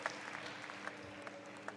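Crowd at a Premier Padel center court match in Bordeaux, faint scattered applause and light cheering in brief bursts, quiet and distant.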